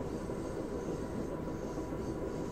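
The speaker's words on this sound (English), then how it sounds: "Looks kind of eerie out there when we're passing these trains so close." Amtrak Southwest Chief rolling past other trains only a few feet away, a loud, dense, steady rumble and roar that fills the whole stretch without a break.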